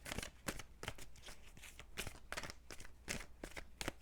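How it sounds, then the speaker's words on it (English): Tarot deck shuffled by hand during a card reading, a run of crisp riffling bursts and papery slaps repeating several times in close succession, with no talk over it. "2 more shuffles, please."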